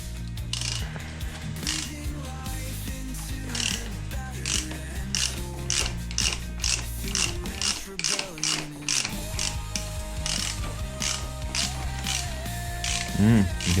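A ratchet loosens the 6mm Allen bolts at the bottom of a BMW K1200RS motorcycle fork in a workshop, giving a run of close, steady clicking bursts over a faint hum.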